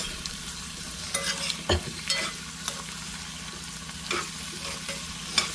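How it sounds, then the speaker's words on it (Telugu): A spoon stirring chili powder into a pumpkin and moong dal curry in a pan, soft scraping strokes over a steady low sizzle, close and fairly quiet with no voices. "సో ఇప్పుడు ఇది మొత్తం కలిసేలా కలిపేసుకోవాలి"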